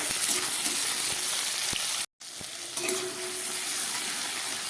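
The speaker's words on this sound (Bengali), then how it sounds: "আবার খানিকক্ষণ ভেজে নেব সবজি দেওয়ার পরে" Potato, onion, green banana, ridge gourd and tomato fry in a pan with a loud, continuous sizzle, broken by a few stirring knocks and one brief cut to silence.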